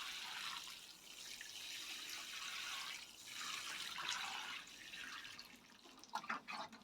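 A watering can pours water onto plants in a greenhouse, a soft continuous splashing hiss with gentle surges, heard up close and faint, with a few light knocks at the end.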